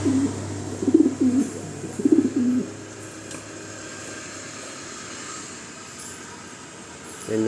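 A pigeon hen in a double cage coos in several short, throaty phrases over the first couple of seconds. After that the recording holds only a faint, steady background hum.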